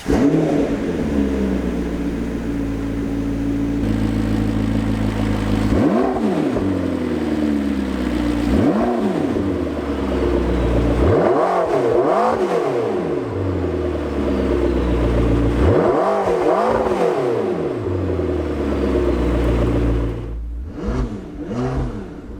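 A 2016 McLaren 650S Spider's 3.8-liter twin-turbo V8 idles with a deep rumble and then roars through repeated sharp revs, loud and close, with no talking.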